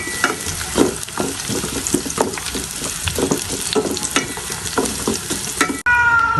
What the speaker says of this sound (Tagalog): Tapos ng bawang ay sibuyas